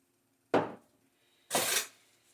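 A whisk works alfredo sauce in a pan in two short, loud scraping bursts, about a second apart, with near-silence between them.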